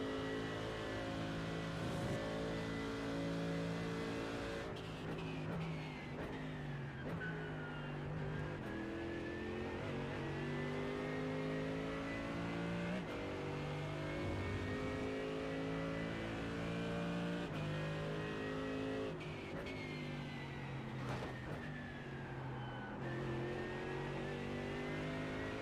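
Mercedes AMG GT3 race car in iRacing at a rainy Imola, a loud continuous engine whose pitch climbs through gears and drops under braking several times, with no talk.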